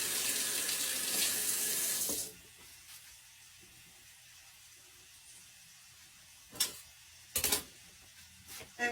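Water runs from a kitchen tap for hand washing: a steady broadband rush for the first two seconds that cuts off abruptly, followed by near silence broken by a few brief knocks and clatters.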